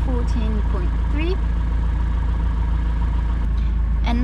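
Land Rover Defender overland camper with its engine running, a steady, low, even idle rumble that holds throughout, with occasional brief high chirping sounds on top.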